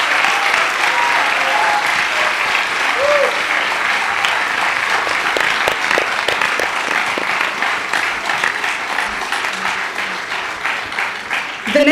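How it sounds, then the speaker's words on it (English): Audience applause for a young dancer at a Bharatanatyam arangetram in Birmingham, UK: sustained, loud clapping from a large seated crowd, with sharper individual claps poking through and faint voices underneath, swelling again at the end. "A big round of applause for our Shishya today"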